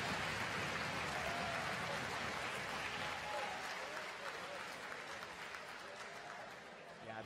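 Kickboxing crowd on its feet after the opening fight goes to the judges, a thick wash of clapping and cheering heard at a distance, steady and slowly easing, with an announcer talking over it.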